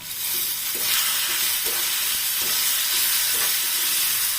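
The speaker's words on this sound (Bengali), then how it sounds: "ভেজে নেব চিংড়ি মাছগুলো দিয়ে দেবো" Peeled shrimp frying in a hot pan for a red amaranth leaf dish, a loud, continuous hiss and sizzle, with a few soft stirring scrapes at intervals and no voices.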